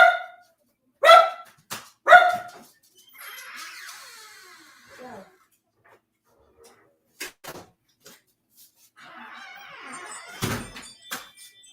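A dog indoors gives three sharp, loud barks in quick succession to be let out to potty, followed by quieter scuffling, a few knocks and a heavy thunk like a door.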